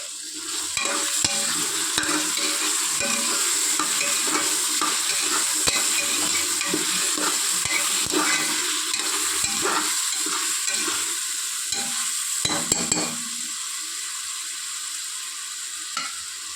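Ginger garlic paste fries in a pan while being stirred, a loud continuous sizzle broken by repeated scraping strokes of the spoon, easing slightly toward the end.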